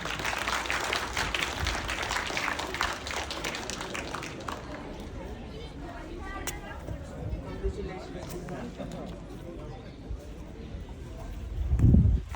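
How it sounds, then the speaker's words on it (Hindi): Steady applause from an audience at a bird festival quiz fills the clip, dense clapping that stays fairly even before swelling briefly near the end. "तालियां बजाएं।"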